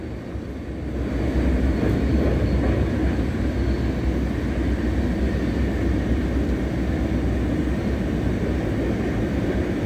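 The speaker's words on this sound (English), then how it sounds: "Nice Norfolk Southern train." A Norfolk Southern freight train passing close by, a steady loud low rumble that swells after the first second and holds constant with no voices over it.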